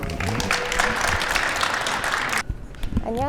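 An audience applauds a speaker about to give a startup talk at a startup incubation talk concert, dense loud clapping that stops abruptly, followed by a few scattered claps and a voice starting to speak.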